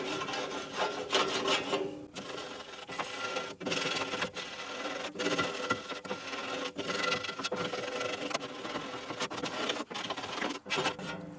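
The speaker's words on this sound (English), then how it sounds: "there is a scraper on here that you can sit here and actually go to town scraping if you really want to" A metal scraper grinds along the buildup inside a Central Boiler Classic Edge 760 outdoor wood boiler, making a continuous close rasping and rubbing with rhythmic strokes and short pauses.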